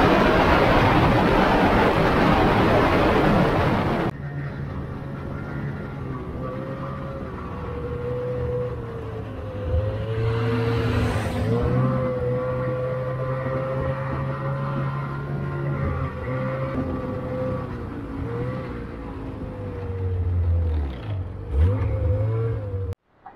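A Ski-Doo Expedition Xtreme snowmobile runs along an Ontario trail with a steady, close engine drone that rises and falls slightly in pitch, following a loud burst of wind noise at the start, with no voices.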